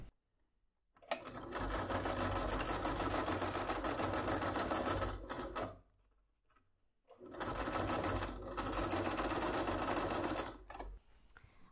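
Sewing machine stitching fabric for a small zippered box pouch: two long loud runs of fast, steady mechanical whirring, close up, separated by a short quiet pause, with no talking.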